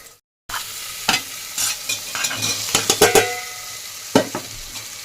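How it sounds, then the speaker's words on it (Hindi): Bottle gourd frying in a pan, a steady sizzle broken by repeated sharp scraping stir strokes, close and fairly loud, after a brief silent gap at the start. "पहले लौकी कर लेती हूँ फ्राई"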